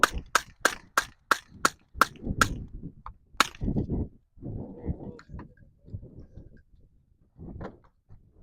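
Gunshots ring out at an outdoor shooting range, about eight sharp cracks in a quick, fairly even string, followed by a couple of isolated shots, then a lull with quieter handling noises and faint voices.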